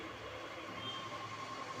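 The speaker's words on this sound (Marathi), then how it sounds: "वटाणे आणि गवार हे मिक्सरमध्ये वाटून घेते" A kitchen mixer grinder grinds peas and cluster beans with a steady, loud motor whir and a faint high whine, continuous and unbroken, with no voices.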